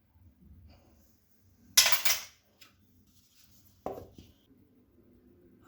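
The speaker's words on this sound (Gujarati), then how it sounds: "થોડા આઈસના ક્યુબ નાખીશું અને થોડોક લીલો કલર નાખીશું" Ice cubes dropped into a glass while making a minty paan sharbat, heard as two sharp, clattering bursts, the first longer and louder, the second brief, with quiet pauses around them.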